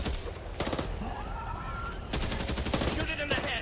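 Gunfire in the Back 4 Blood video game, bursts of rapid automatic shots in two loud volleys separated by a pause, with game sounds between them.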